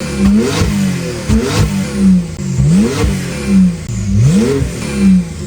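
Porsche 911 Carrera S engine revved in neutral, giving four or five strong rising blips that fall back to idle between them, loud and close with no talking.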